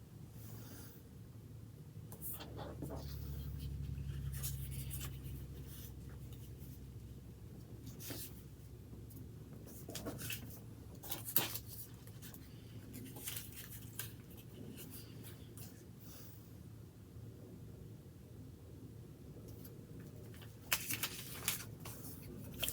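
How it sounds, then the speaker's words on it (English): Paper being folded for a craft, with scattered soft crinkles and sharper creasing rustles spread over a quiet room with low background hum, faint and close. "All right, let's say we're going to fold it up. Fold the bottom corner up."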